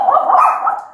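A dog gives a single loud, close bark or yelp in a home, one sharp burst lasting about a second.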